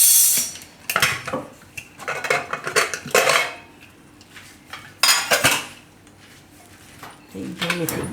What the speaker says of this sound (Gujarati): તો કુકર આપણે હવે ખોલીને જોઈ લઈએ